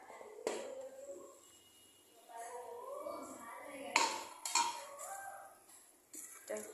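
Metal pots and utensils clink and clatter in a home kitchen while lentils are cooked with gourd and fish, giving several sharp knocks amid softer handling sounds, with no talking.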